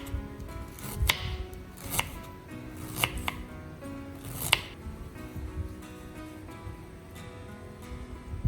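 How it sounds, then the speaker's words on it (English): A knife slices ginger thinly on a board, with a few sharper cuts standing out over a low background hum. "we slice the ginger into very thin pieces."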